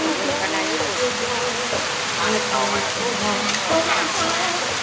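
Steady, dense rain pours down at an outdoor plant market at Khao Chi On in Sattahip, a loud constant hiss with scattered drips and patters, and faint voices murmur underneath.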